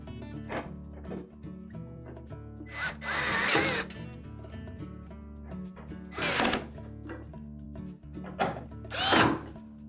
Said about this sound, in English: We can then put a couple of screws in to hold it in place.